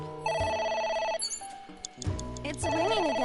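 An electronic telephone rings in the video game AI: The Somnium Files, a loud warbling tonal ring repeating in bursts with game music and sound effects mixed in.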